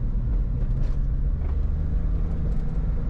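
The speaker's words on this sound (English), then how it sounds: "Hear the revs of the car." A deep, rumbling old Porsche 911 engine drones steadily from inside the cabin, low and throaty with little change in pitch, no voices over it.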